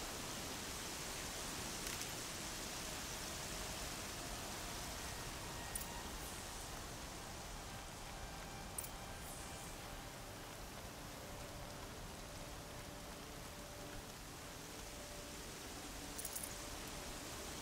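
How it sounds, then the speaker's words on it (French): Steady rain falling in Horizon Zero Dawn, a constant even hiss of drops on surfaces with faint occasional ticks, sustained and fairly quiet throughout. "La pluie couvre les bruits"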